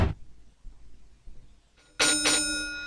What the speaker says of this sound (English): And there's the bell, and we buzz back.